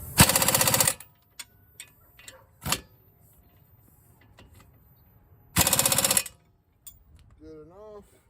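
A compressor-driven air impact tool rattles in two loud, roughly one-second bursts while tightening bolts on a 2005 Toyota Corolla steering knuckle, with short clanks and a brief voice between them.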